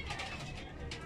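A pigeon coos close by in a soft, rounded, repeating call, with a voice speaking over it.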